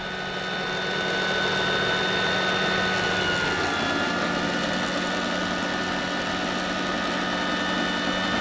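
Vario MD-500E RC helicopter engine running steadily in flight, a continuous droning whine whose pitch sags once and then climbs back, heard alone and fairly loud throughout.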